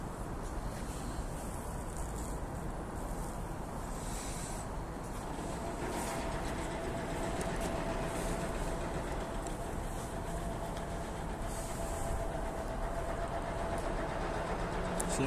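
An EP2D electric train running steadily, heard from inside as a constant low rumble and rolling noise with a faint tonal motor whine, unbroken throughout.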